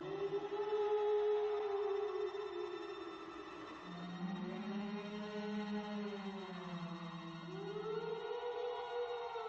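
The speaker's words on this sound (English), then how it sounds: "Darby finds her injured and then the banshee appears." A banshee's wail from the Disney film Darby O'Gill and the Little People rises and falls as a loud, sustained, siren-like keening. It slides between pitches over several seconds, with no talk over it.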